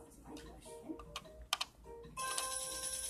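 A phone ringtone sounds in a toy Lego Spider-Man scene, a steady tonal ring starting partway through and continuing to the end, loud over earlier faint clicks and rustles.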